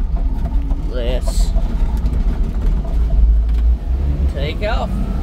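A Daihatsu Hijet Jumbo four-wheel-drive mini truck pulls away, its engine rumbling loud and close with a couple of rising revs as it moves off, and voices talk over it.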